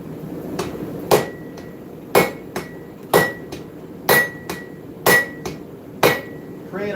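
Hammer blows ring out on hot steel while a seax knife is forged at an anvil, sharp metallic strikes landing in a steady rhythm of heavy hits and lighter taps, about a dozen in all, close and loud with no talk.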